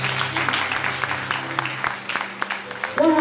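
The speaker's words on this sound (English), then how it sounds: "Clap for Jesus, somebody." A congregation claps together during a charismatic worship gathering in Melbourne, a dense, continuous round of applause with a faint voice and low hum underneath, louder near the end.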